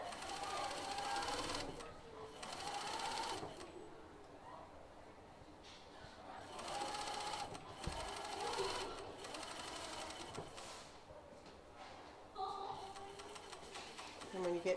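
Coverstitch sewing machine hemming a T-shirt sleeve, running in steady mechanical bursts of stitching with brief pauses between runs, close and fairly loud, with a person speaking at times over it.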